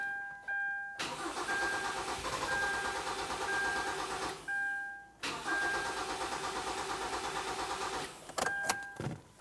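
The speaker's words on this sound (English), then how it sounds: "as you're cranking over the vehicle, it may start and then die out" A 2.4L Kia Forte Koup engine with no fuel pressure cranks in two long, whirring bursts without catching. Electronic chime tones sound before and between the attempts.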